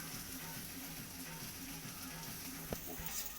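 Chopped ginger frying in a pan, a steady soft sizzle with a faint crackle and one brief clink near the end, continuous and fairly quiet with no talking.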